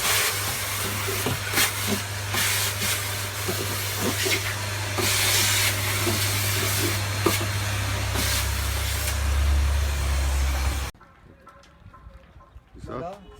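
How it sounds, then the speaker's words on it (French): Vacuum cleaner running aboard a cruising boat, a steady loud drone with a low hum for about eleven seconds before cutting off abruptly, voices talking over it. "on va même passer l'aspirateur"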